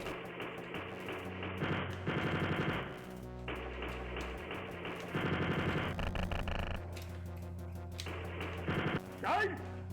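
Machine gun strafing fire in the DOS video game Earthsiege comes in repeated rapid bursts, fairly quiet and mixed with other game sounds and a voice speaking.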